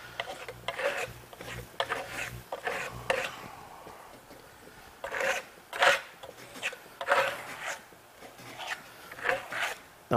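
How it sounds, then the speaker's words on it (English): Steel trowel spreading pearl wax over a textured Venetian plaster wall, a series of soft close rasping strokes in uneven rhythm, quiet and without talk. "I'm just going to trowel on a coat of pearl wax over the entire surface"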